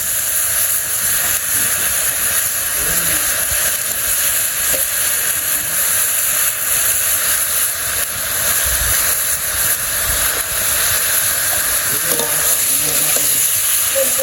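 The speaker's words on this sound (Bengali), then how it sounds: "আমগুলো কষিয়ে নিই আমি।" Mango pieces with salt and turmeric sauté in a hot pan, giving a continuous loud sizzle and hiss with occasional scraping stirs, no voices over it.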